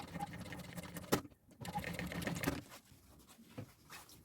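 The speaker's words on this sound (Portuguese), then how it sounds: "vou costurar essa tira nessa extremidade" A sewing machine stitching a fabric strip onto one end of a piece of fabric for an executive bag, with quiet whirring runs broken by short pauses and no talking.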